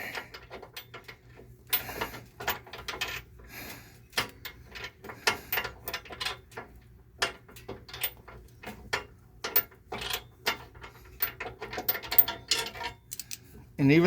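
A wrench ratchets with quick, irregular clicking bursts while a tow hitch is bolted under a 2010 Toyota Prius, with close metallic taps and clanks and a low steady hum underneath.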